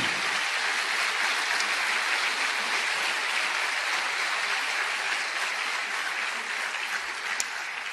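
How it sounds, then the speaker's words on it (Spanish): A church congregation claps together during a sermon, a continuous, even applause heard at a moderate distance for the full stretch. "¿Cuántos le dan un aplauso a Él?"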